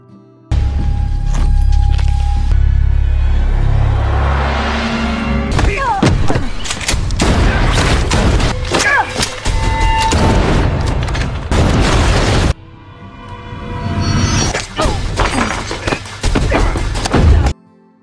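Loud, dense bursts of gunfire and heavy booming impacts keep going almost without a break, with a short lull partway through.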